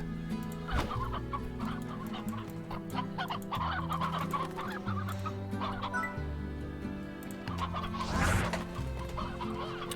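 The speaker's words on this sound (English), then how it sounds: "we could shoot the chickens through this portal and then they'll go back into the coop" Chickens cluck steadily in the video game Slime Rancher over a repeating low electronic music loop, with a burst of louder squawking near the end.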